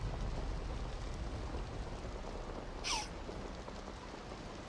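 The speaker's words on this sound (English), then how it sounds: "I can hear the rain behind me" Steady rain pours as a dense, even hiss with a low rumble beneath it, constant across the whole stretch and fairly faint, broken once by a brief brighter splash.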